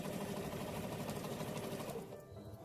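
A sewing machine runs steadily, stitching a quarter-inch seam on a pillowcase made from a premade quilt block, with a fast continuous mechanical whir that eases off near the end.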